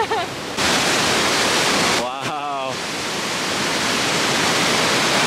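The meltwater waterfall below Norway's Briksdal Glacier, pouring up to 10,000 litres per second, roars as a dense, constant rush of noise close by, while a person briefly exclaims partway through.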